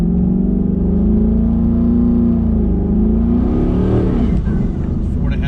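A 2019 twin turbo Coyote-engined car with a 10R80 transmission and Circle D stall converter accelerates hard, its engine droning loud and steady, then climbing in pitch as it revs, with voices talking over it.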